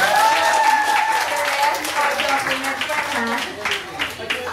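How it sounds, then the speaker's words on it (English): An audience that includes nursing students breaks into sustained, lively applause with scattered cheers, voices rising through the clapping for several seconds. "let's give them a round of applause."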